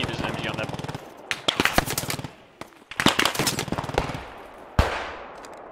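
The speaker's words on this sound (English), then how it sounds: "there's an MG on that barn" Machine gun fire from a barn in the video game Post Scriptum rattles out in several loud, rapid bursts with short gaps between them, closing on a single sharp shot, while a person talks.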